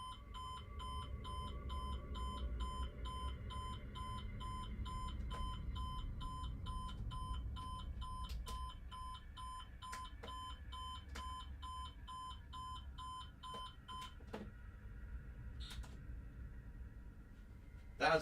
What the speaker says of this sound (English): Oh, it's an alarm.